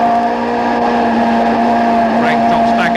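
Several 2.3-litre, 320-horsepower four-cylinder BMW touring race cars drone loudly at high speed in a 1989 British Touring Car Championship race, a steady buzzing engine note with brief rising whines, under continuous commentary.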